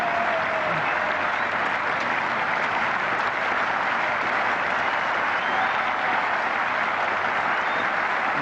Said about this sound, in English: The England balcony applaud and approve.